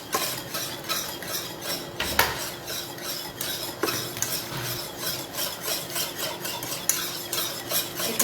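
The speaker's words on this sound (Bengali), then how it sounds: "এখানে কন্টিনিউ নাড়তে হবে যাতে দলা পেকে না যায়" A spoon scrapes and swirls steadily through a cream mixture in a pan with continuous stirring, giving a close, rasping texture with a few sharper clinks against the metal and no voices.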